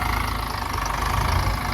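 A tractor engine idles and chugs with a steady, knocking low rumble while pressing down soil, close and continuous with no voices.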